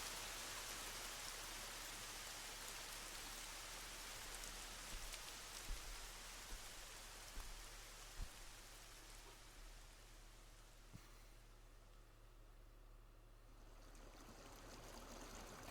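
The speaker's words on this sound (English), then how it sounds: "that is a loud rain sound effect" Steady, loud video game rain sound effect pours down continuously, a dense hiss of drops on surfaces with a few louder splats, easing slightly toward the end.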